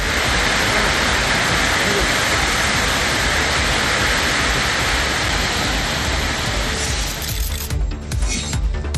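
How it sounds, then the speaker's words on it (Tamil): Heavy rain driven by wind during a storm in Tamil Nadu, a dense, steady, loud roar of downpour that thins toward the end, where faint talk comes through. "பல்வேறு பகுதிகளில் காற்றுடன் கனமழை வெளுத்து வாங்கியது."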